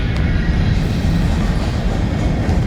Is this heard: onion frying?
no